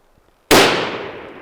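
A single loud, sharp rifle shot fired at a target outdoors cracks suddenly, then a long echoing decay rolls away across open ground.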